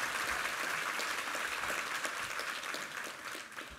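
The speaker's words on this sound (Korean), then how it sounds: "우리 하나님께 감사와 영광의 박수 올려드리겠습니다." Church congregation applause during a Korean Sunday worship service, a steady wash of clapping from a large crowd heard from some distance and fairly faint throughout.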